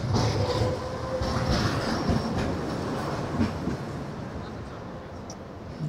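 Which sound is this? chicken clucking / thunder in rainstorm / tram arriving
tram arriving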